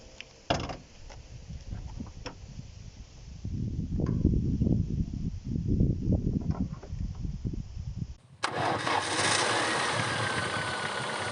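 A Chevy Niva SUV engine idles nearby with a low, uneven rumble after a sharp clunk, then a loud broadband hiss takes over near the end.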